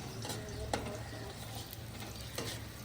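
Onion fries and browns in a pot, a soft, steady sizzle with occasional stirring scrapes and clinks, fairly faint.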